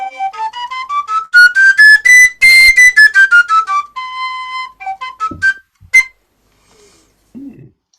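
A taborer's three-hole pipe, quiet and gentle in tone, played in a bright whistling run that climbs steadily, then dips and holds a note before short tooted phrases, with a breath at the end.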